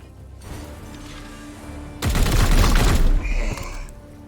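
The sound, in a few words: gunfire from shooting in Chaos Gate - Daemonhunters video game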